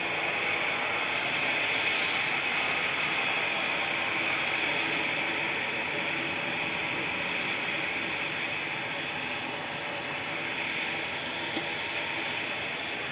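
A regional airliner at Manchester Airport lined up and beginning its takeoff, a steady broad engine roar holding near-constant loudness throughout with a bright whining tone, while people talk over it.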